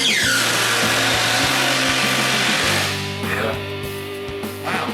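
Cordless impact drivers, a Craftsman V20 and a RIDGID Octane, whir and hammer in steady bursts at close range, their motor pitch shifting as one stops and another spins up partway through.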